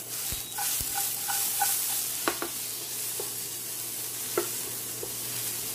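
Noodles and sliced pork belly sizzle steadily in a frying pan coated with pork fat, with scattered scraping and clicking stir sounds over the constant hiss.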